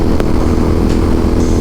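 A Royal Enfield Interceptor 650 motorcycle rides through a corner, its engine a loud, steady droning rumble mixed with wind buffeting, heard close and continuous with no voices.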